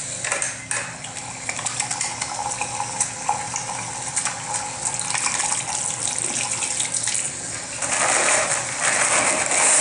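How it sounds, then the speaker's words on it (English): A running water tap splashes steadily into a sink as hands are washed beneath the stream, the rushing water filling the scene and growing slightly louder near the end. "If I then quickly wash my hands"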